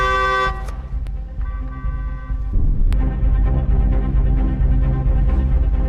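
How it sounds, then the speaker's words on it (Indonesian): A car horn honks a couple of times over a loud, steady rumble of engine and road noise. "ia pun lekas membunyikan klakson beberapa kali untuk memastikannya"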